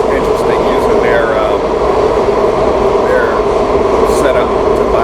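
A Washington DC metro train rumbles with a constant loud low roar, faint brake squeals and ventilation hiss on top, while people talk over it.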